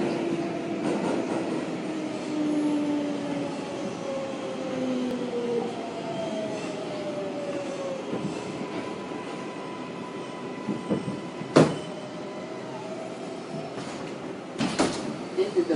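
A Brooklyn Bridge-bound 6 subway train in New York rumbles steadily along with rising and falling motor whine, punctuated near the end by a few sharp clanks and knocks.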